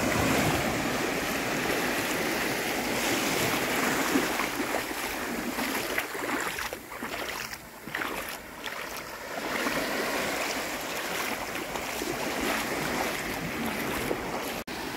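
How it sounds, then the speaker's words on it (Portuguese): At Mococa beach in Caraguatatuba, a forceful river pours into the sea as a continuous broad rush of water, with wind blowing and a few dips in level. "E aqui deságua um rio aqui, tá com força a água hoje, hein?"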